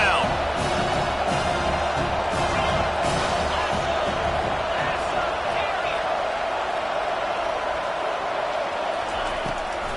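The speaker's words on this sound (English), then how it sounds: "Decibels rising as the crowd gets behind this defense on third down" A loud stadium crowd at a college football game between Arizona State and TCU roars steadily for a defensive third down, a continuous wash of cheering under a commentator's voice.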